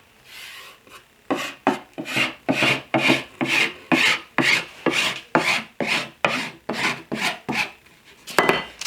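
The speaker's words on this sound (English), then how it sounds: "As long as you file down those edges" Sandpaper rubbed back and forth along the edges of a wooden shelf, about fifteen steady rasping strokes in quick rhythm, close and fairly loud with no voices.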